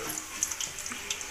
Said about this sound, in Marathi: आता पापड होतो तळून